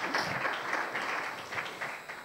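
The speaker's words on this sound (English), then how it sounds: "we would like to have a clap for them" A conference audience applauds its sponsors with a brief, dense burst of many hands clapping, moderately distant in a hall, rising quickly and fading slightly toward the end.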